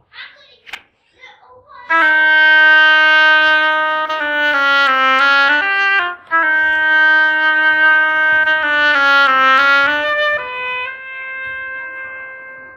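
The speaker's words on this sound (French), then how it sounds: "Écoutez bien le son du hautbois" A solo oboe plays a sustained melodic line of held, reedy notes with rich harmonics at a children's concert of Peter and the Wolf, loud and clear with a brief pause midway, after a few short voice sounds at the start.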